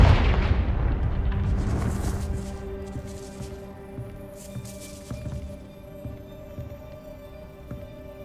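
A Confringo fire spell goes off in the video game Hogwarts Legacy, opening with a loud, booming blast that rolls off into a long rumbling decay under a steady game soundscape, with no talking.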